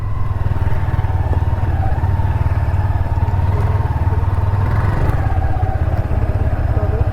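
Motorcycle engine idling and running steadily up close during a group ride, as the bike is lifted up onto the road, with light clatter over a continuous low rumble.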